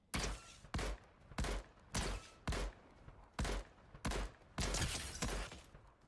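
Seven sharp, evenly spaced gunshots in the Fortnite video game, each a hard crack with a short decaying tail, fired in a steady rhythm at moderate loudness with no talking.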